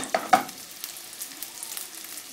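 Onions sauté in a pan for bitter melon with shrimp paste, giving a soft, close sizzle with a couple of sharper stirring knocks near the start, then a quieter hiss.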